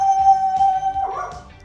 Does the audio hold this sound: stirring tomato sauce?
no